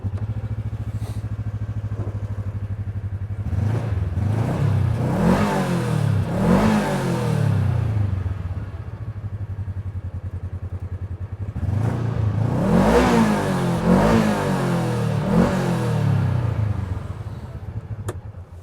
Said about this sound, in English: We cannot end this walk around without first starting it up so you can hear it.